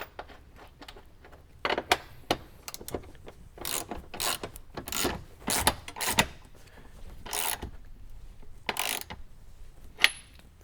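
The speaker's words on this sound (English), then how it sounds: "So let's go ahead and put our bolt in." A ratchet drives a bolt into a Jeep Wrangler subwoofer enclosure bracket: irregular bursts of quick clicking and rasping strokes, close and fairly quiet, with short pauses between runs.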